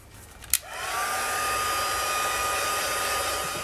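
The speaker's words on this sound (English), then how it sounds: "I'll just do some heat setting." A heat tool is used to heat set alcohol ink on a card, starting with a click and then a steady, close blowing whoosh that holds for several seconds with no talking.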